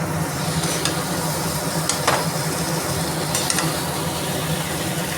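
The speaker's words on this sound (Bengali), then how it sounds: "গোলমরিচের গুঁড়ো দিচ্ছি, দিয়ে আমি চাউমিনটা ভালো করে নাড়িয়ে নেব।" Chow mein sprinkled with black pepper is stirred and tossed in a hot pan, giving a steady sizzle with a few scraping clinks of the utensil against the metal.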